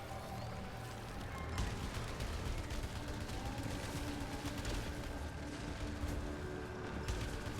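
Weapons in the video game Returnal fired blindly without aiming, a dense, continuous barrage of rapid gunfire and blasts layered over rumbling game effects, steady and loud throughout with no pauses.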